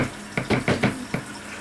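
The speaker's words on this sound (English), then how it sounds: "You want to turn off the water to the sink?" Water runs from a sink tap in uneven, splashing bursts, a close, fairly loud gush that pulses several times.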